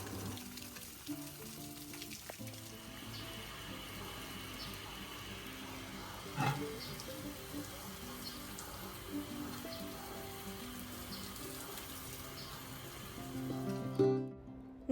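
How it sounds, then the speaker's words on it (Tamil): Water poured over newly planted garden seedlings gives a steady, close splashing and pattering, like light rain on soil and leaves, running continuously for about fourteen seconds before stopping. "ஸோ இப்போ வச்சு விட்ட செடி எல்லாத்துக்கும் வந்து நம்ம ஃபஸ்ட்டு தண்ணியை வந்து ஊற்றி விட்டுறலாம்"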